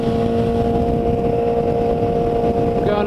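A motorcycle cruising on a highway makes a loud, steady engine drone mixed with wind rush, close and continuous, with a slight rise in pitch near the end.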